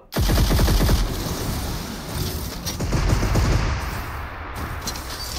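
Loud, close automatic gunfire in a mobile battle royale game: rapid bursts of shots that keep firing across the clip with little pause, and no talking.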